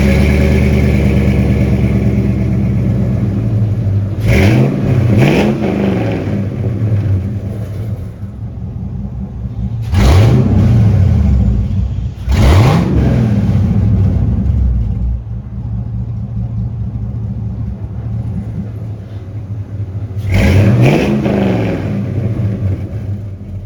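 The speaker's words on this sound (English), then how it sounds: "He got the exhaust ran all the way out the back, and I want to give you a little sound clip" LS-swapped Chevrolet C1500 truck with exhaust run out the back, idling with a deep rumble and revved hard several times in short bursts, loud and close.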